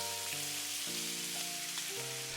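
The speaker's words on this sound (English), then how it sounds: "I'm going to pour that all over the shrimp." Melted garlic butter hits shrimp in a hot pan, producing a broad, steady sizzle that stays loud and constant throughout, with a faint background tone and no talking.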